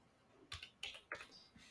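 Keys on a computer keyboard are struck while entering a command in a terminal: a handful of separate, crisp clicks spaced irregularly, close and fairly quiet, with no talking.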